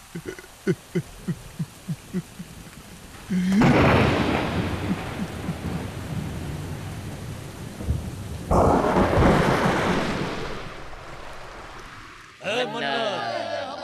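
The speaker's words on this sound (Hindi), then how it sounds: "बारिश हो गई, बारिश हो गई।" A downpour of rain with thunder. Loud bursts of crackling, rumbling noise come in two long waves, one after an earlier stretch of short, sharp knocks, and people speak at the very end.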